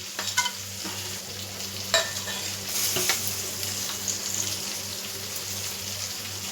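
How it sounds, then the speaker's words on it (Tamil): Cinnamon, cloves, cardamom and fennel crackle in hot oil for fish biryani, a steady close sizzle with a few sharp pops and stirring clinks. "எண்ணெய் இப்போ சூடாகிடுச்சு. பட்டை, கிராம்பெல்லாம் பொரிஞ்சு வந்துடுச்சு."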